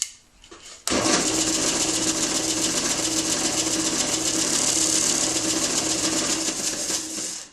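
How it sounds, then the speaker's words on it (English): A disc sander with a 45-degree guide, touched to the corner of a walnut box, starts up abruptly after a quiet moment and then holds a steady, loud whirring drone until it tapers at the end. "just touch that corner with a little 45-degree guide I've put on my disc sander, and it makes a perfect 45-degree flat angle"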